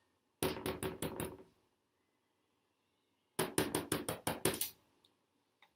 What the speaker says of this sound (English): Barty went to the house and knocked on the door.